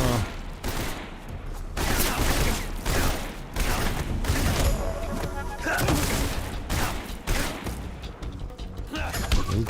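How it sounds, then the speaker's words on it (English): Bursts of gunfire in the video game Metal Gear Solid Delta, loud and dense volleys crackling almost continuously with heavy impacts and rapid shots, close and dominating throughout. "Them gunshots sound cool."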